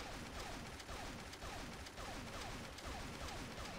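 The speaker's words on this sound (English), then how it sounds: "Damn, I'm shooting like a beast now." Rapid, continuous gunfire rattles in the video game Charlie Murder, a dense barrage of quick shots repeating steadily but sitting faint in the background.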